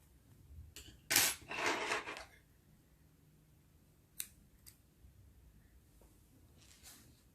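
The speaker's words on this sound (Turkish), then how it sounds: "Şimdi diğer renk ipimi alıyorum. Bunu da kesiyorum." Scissors cutting yarn, a close crisp snip with a short rasping cut, followed by a few faint clicks of the blades.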